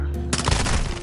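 Rapid automatic gunfire in the video game Warzone 2, a dense, loud burst of shots with game noise that swells sharply partway through the second.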